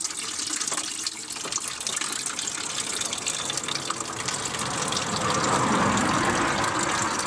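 Water gushes and splashes steadily under a Mk3 Ford Cortina Estate, washing spilled coolant off the floor, a close continuous flow that grows fuller toward the end, with no talk.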